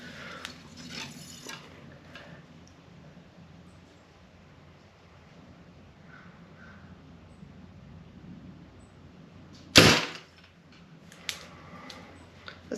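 A single loud, sharp release from a Darton Exodus Pro SD compound bow firing an arrow, standing alone against a quiet outdoor background with faint mechanical clicks before and after.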